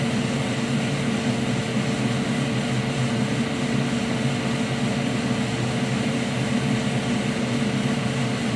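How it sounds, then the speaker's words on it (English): Constant rushing airflow noise, like a fume extractor or fan running at a bench during Nintendo Switch Joy-Con connector soldering, holds steady and fairly loud throughout with no voices. "Oh yeah, sorry for the airflow noise."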